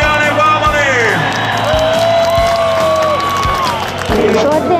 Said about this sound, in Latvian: Aplausi Jānim Baumanim!